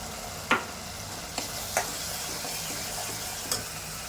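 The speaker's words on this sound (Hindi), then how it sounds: "अब इसकी अच्छे से भुनाई करेंगे।" Goat kidney masala frying and being stirred in a pan, a steady hiss of sizzling broken by a few sharp scrapes of the spoon at intervals, close and moderately loud with no talking.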